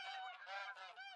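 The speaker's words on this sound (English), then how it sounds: "There's more geese coming in." Several geese honk in a hunting video game set in West Virginia's Appalachian woods, overlapping nasal calls repeating in quick bursts, clear and close though quiet overall, with no talking.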